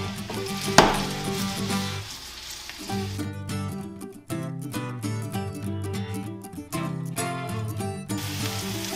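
Vegetables sizzle and fry in a pan for a catch-and-cook meal, steady crackling broken by clattering stirring and scraping bursts of utensils against the pan, close and busy with no talking.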